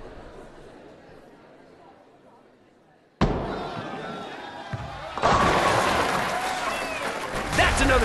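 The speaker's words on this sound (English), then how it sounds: "That's another strike for the eight bagger." In PBA Pro Bowling, a ball slams into the pins with a sudden loud crash, followed by scattering clatter and crowd noise swelling in an arena, with a commentator talking.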